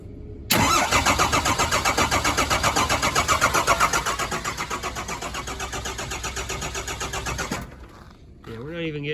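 A car engine cranks steadily in a fast repeating whir for several seconds without catching, loud and close, from a vehicle suspected of a bad injector and not getting fuel; it stops abruptly, followed by brief voices.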